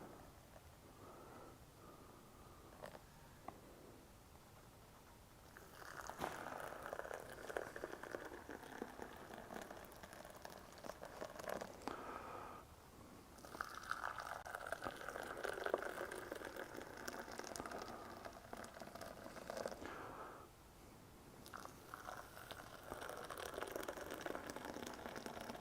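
Water poured from a height onto thirty stacked tasting bowls at a decaf coffee tasting, a steady splashing rush in three long bursts separated by brief pauses, close and fairly loud.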